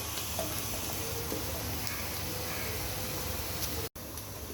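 Onions and garlic fry with mutton in a pan, giving a steady, even sizzle that runs the whole time with no talk over it and drops out for a split second near the end.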